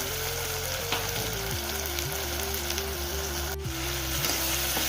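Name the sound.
tomato and mutton head sautéing in pan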